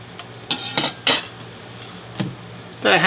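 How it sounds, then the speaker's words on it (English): Butter melting in a hot pan while cornbread cooks, a steady soft sizzle with several sharp scrapes and clinks of a utensil against the pan, close by and without talking. "I get butter on one side, put the butter down, let it melt the rest of the way."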